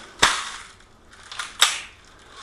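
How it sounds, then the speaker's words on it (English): ASG CAA M4 Proline AEG airsoft rifle firing two sharp single shots about 1.4 seconds apart, close and crisp with short decays, no talking. "let's just see if we can get some rounds down on target and see if we can get a few through the Chrony"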